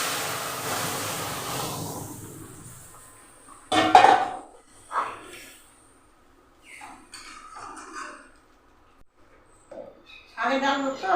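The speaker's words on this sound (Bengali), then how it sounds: "ফোড়ন হয়ে গেছে, ডালটা ঢেলে দিচ্ছি।" Lentils are poured into a pan of cumin seeds tempered in hot oil for a masoor dal with pumpkin greens, giving a sudden loud sizzling splash that fades into softer bubbling and clatter, with a few kitchen knocks.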